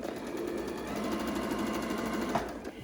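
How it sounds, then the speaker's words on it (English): A sewing machine runs in a steady, rapid mechanical whir of stitching, close and moderately quiet, with no speech. "Then you move it over to your sewing machine and you just do a quick stitch to that first line."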